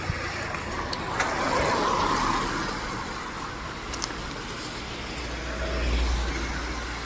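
Cars, buses and trucks move along a foggy road on the walking pilgrimage route from Danta to Ambaji, a continuous wash of traffic noise with vehicles swelling past at moderate distance.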